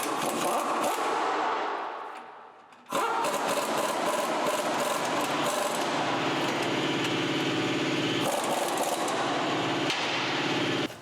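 Impact wrench running down wheel bearing bolts on a Chevy GMC 2500HD, close and loud: a long continuous rattling hammer buzz, a brief pause, then another sustained run.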